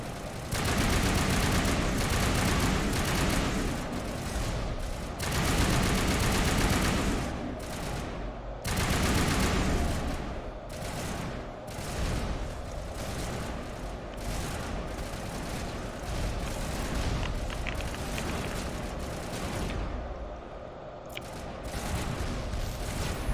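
Sustained weapon fire in the video game Mass Effect Legendary Edition, dense rapid bursts and booms almost without pause, loud and close, with brief lulls near the end.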